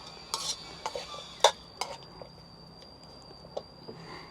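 Quail stir-fried in a pan: a metal utensil scrapes and clinks against the pan in a series of scattered strokes over a soft steady sizzle, close and moderately loud.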